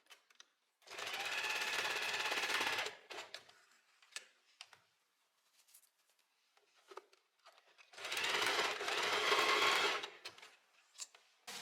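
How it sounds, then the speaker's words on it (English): A domestic sewing machine stitches back and forth over elastic ends on a blouse made from a bedsheet, two steady whirring runs of about two seconds each, separated by light clicks and handling sounds. "I go back to my sewing machine and I'm just going to sew over it a few times"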